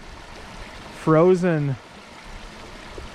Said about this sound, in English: rocks with water flowing around them.